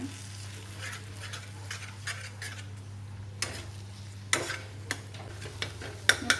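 Beaten egg frying and being stirred in a pan for kothu parotta, a soft steady sizzle under a low hum, punctuated by sharp metallic scrapes and spatula clanks that grow louder toward the end.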